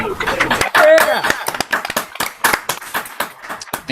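Scattered handclaps from an online audience at the 2021 Portsmouth Maritime Folk Festival concert, applauding a performer, with cheering voices and a brief whistle-like tone mixed in over a few seconds.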